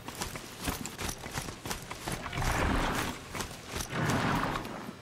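Horse hooves clip-clopping at a steady gait in the video game Horizon Zero Dawn, with a brief whinny, fairly loud and close against ambient game sound.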